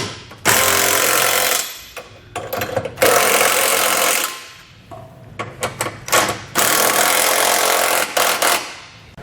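Impact wrench snugging down the bolts of a Curt trailer hitch receiver on a 2020 Chevrolet Equinox, loud close bursts of a few seconds each with short pauses and quick taps between.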